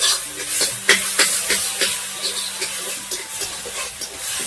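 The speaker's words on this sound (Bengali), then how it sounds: "তো দেখো এটা ভেজে নিচ্ছি" Dried fish fried with green chilli and garlic in a pan, a soft continuous sizzle with intermittent scraping stir strokes, close and moderately quiet.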